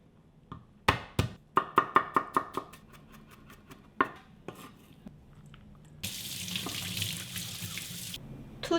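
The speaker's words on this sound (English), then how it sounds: "Let's mince 2 garlic cloves." A knife strikes a cutting board in a quick run of sharp, close taps while mincing garlic cloves, then a few scattered knocks, followed by a rush of running tap water for a couple of seconds.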